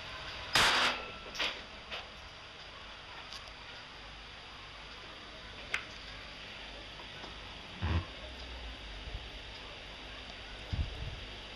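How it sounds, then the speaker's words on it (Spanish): One sharp, loud gunshot fired 20 centimeters from a sound level meter rings out early, followed by quiet room noise and a few faint knocks. "vamos a proceder a realizar un disparo a 20 centímetros"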